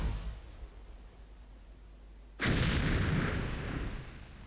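Artillery fire from a Civil War-era battery in the strategy game Battleground: Antietam, a single loud booming report that starts abruptly midway and rumbles on for a couple of seconds.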